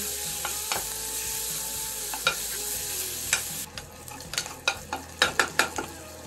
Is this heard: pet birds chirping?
no